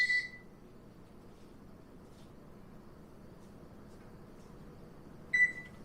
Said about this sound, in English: Put the timer on 50 minutes.